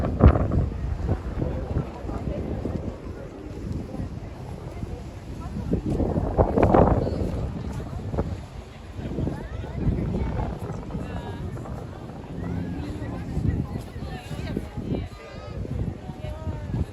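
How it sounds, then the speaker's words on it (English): Gusty winter wind in St Petersburg, Russia, buffets the microphone in low rumbling surges, loudest midway, with people talking intermittently underneath. "It's a little windy here."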